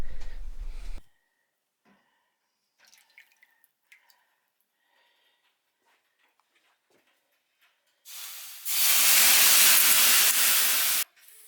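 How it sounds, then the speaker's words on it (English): Water is ladled onto hot sauna rocks in Finnish Lapland, hitting with a sudden loud, sustained hiss of steam for several seconds after a stretch of near silence broken by faint drips and small taps. "you have your hot rocks where you go ahead and you add your water to that to get your steam"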